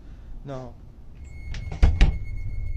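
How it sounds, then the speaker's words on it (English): Heavy banging against a door, a few loud thuds in quick succession around the middle, preceded by a brief vocal sound and a thin electronic tone in the background. "until it becomes aggressive, banging against the door itself"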